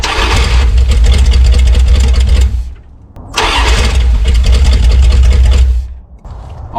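A 318 Magnum V8 engine, fed on brake cleaner, cranks and fires into a loud, rough run, cuts out briefly, then catches and runs again before dying down, close by with no talk over it.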